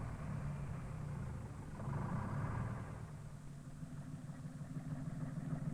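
A logging truck's engine running steadily at idle, a low continuous rumble with a brief swell in the middle, heard alone at moderate distance.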